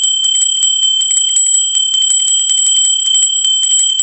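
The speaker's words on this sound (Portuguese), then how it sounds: "O sininho tocou," Small bell sound effect ringing in quick, bright, repeated strikes for about four seconds, loud and alone with no talk.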